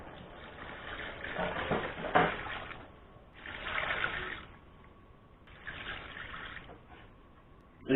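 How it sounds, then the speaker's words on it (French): Water pours into a pot of simmering fish soup in several splashing bursts that swell and fade, close and moderately loud. "je rajoute de l'eau"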